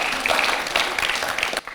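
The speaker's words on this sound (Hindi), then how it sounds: "तो जोरदार तालियों के साथ स्वागत कीजिए योगी हरिओम दास महाराज जी का।" Audience applause welcoming a guest, Yogi Hari Om Das Maharaj, onto a Hindi television news debate set, a steady dense clapping that cuts off abruptly near the end.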